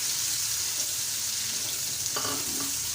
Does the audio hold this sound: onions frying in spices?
yes